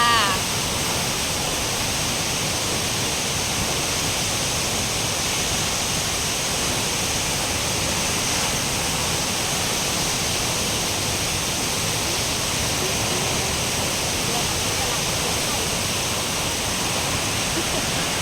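Huay Luang waterfall at Nam Yuen, Ubon Ratchathani, Thailand, pours in a steady, dense roar of falling water that runs unbroken throughout, close and loud with no other sounds standing out.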